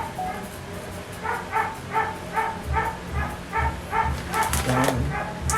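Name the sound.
dog barking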